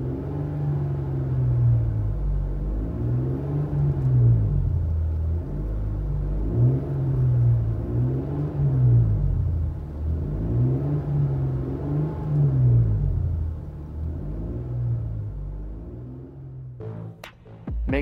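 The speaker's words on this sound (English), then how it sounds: "Interior tone level is moderate with this Street Demon split dual exhaust." Cabin view of a 2018 Jeep Cherokee Trailhawk V6 with a Street Demon split dual exhaust, a moderate engine drone that rises and falls with repeated acceleration swells, heard from inside with no speech.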